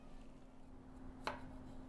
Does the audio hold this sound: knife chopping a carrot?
yes